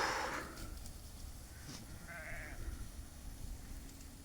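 Goats on a farm bleating a couple of times at moderate distance over steady outdoor background noise, with no talk.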